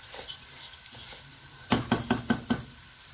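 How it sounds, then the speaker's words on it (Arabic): Freekeh toasts and gets stirred in a pan. Soft scraping and faint sizzle give way to a quick run of five sharp utensil knocks against the pan, close and clear. "هلا بنقلبها كم تقليبه ان شاء الله"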